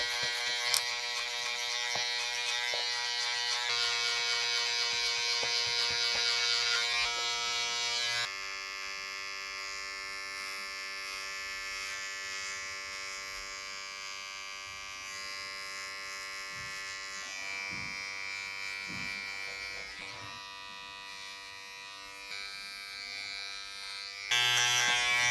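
Electric hair clippers buzz steadily while cutting a taper during a haircut, a sustained close, even whine that shifts slightly in pitch as the blade moves through the hair, with a brief louder burst at the very end.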